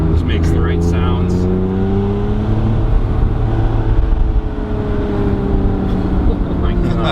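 A 1991 Acura NSX drives along with a steady engine drone and mild revving that stays close and loud the whole time, while a person talks over it.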